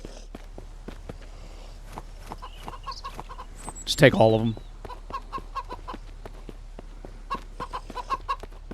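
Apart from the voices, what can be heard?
chicken clucking in the video game Mist Survival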